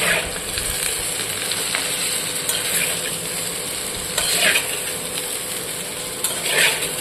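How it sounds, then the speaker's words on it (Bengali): Chow noodles frying with potatoes in a pan, a continuous sizzle under repeated scraping strokes of a spatula against the metal, close and steady with no talking. "এবার আমি চাউটা একটুখানি আলুর সঙ্গে ভেজে নেবো"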